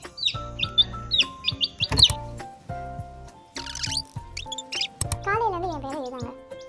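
A baby chick chirps loudly and insistently in short, high repeated peeps, mixed with someone talking throughout and a few sharp handling noises.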